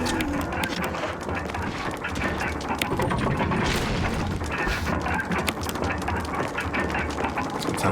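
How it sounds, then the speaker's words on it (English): Grenade launcher fire in Resident Evil Remastered, a dense, steady barrage of mechanical clanks and heavy booms that keeps up loud throughout, with no talk over it. "meet grenade launcher"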